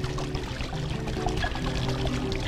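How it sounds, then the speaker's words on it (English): Water from an Iguazu Falls waterfall kit in a patio pond spills and splashes steadily, a continuous close pouring rush with no pauses and no voices. "If this is splashing a little much, you can just grab a real rock and use that as a dispersion rock"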